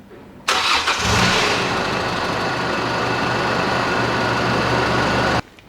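Holden RG Colorado diesel engine starting after a fuel filter change and bleed of the fuel system: a loud crank catching within a second, then a steady, rough idle running close by until it stops, with no talk.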